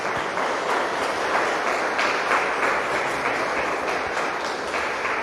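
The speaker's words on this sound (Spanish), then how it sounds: "vamos a darle un fuerte aplauso a Jesucristo" A church congregation applauds during a Spanish-language Catholic service, a dense, steady wash of many hands clapping at once that holds evenly for several seconds with no voices over it.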